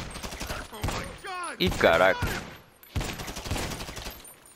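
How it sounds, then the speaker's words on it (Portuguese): A few sharp gunshot cracks from the video game GTA V Online break out between a man's excited Portuguese exclamations, his voice dominating over the brief bursts of fire. "Ainda tô tomando tiro ainda pra piorar."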